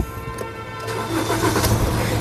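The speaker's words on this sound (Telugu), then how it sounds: "సింగిల్ సెల్ఫ్లో కార్ స్టార్ట్ అవుతుంది" Diesel engine of a 2019 Maruti Suzuki Ertiga VDI (1.5 litre) catching on the first crank, a short churn that settles into a moderately loud, rough idle rumble heard close by.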